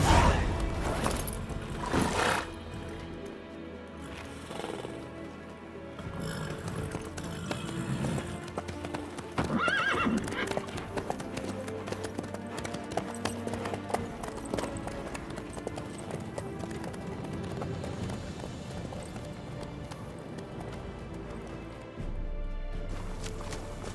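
Horse hooves clip-clop through The Witcher 3 while riding, a continuous rhythmic trot layered with game music and ambience for the whole stretch, no one speaking.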